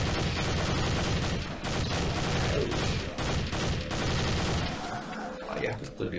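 Gunfire in the Dead Target zombie shooting game, dense rapid bursts of shots layered with game effects, loud and continuous over most of the clip, with a voice talking.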